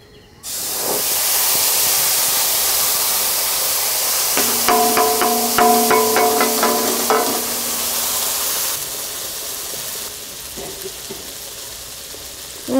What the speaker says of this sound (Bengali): মাছ ভাজার তেলে বাটা মশলা দিয়ে দিচ্ছি।